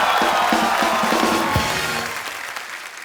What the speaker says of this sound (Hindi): एक बार ऋतिक रोशन के लिए जोरदार तालियां।